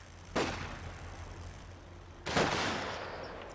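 Two sharp bursts of gunfire from a machine gun in the real-time strategy game Company of Heroes 2, the first near the start and the second about two seconds later, each with a lingering decaying tail over a low background rumble.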